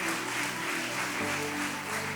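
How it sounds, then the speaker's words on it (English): Crowd applause for Inspiria Knowledge Campus at the InspiriaQ inter-school quiz competition in North Bengal, a steady, dense wash of clapping sustained throughout over a low tonal hum. "Thunderously clap for Inspiria Knowledge Campus for going ahead with InspiriaQ"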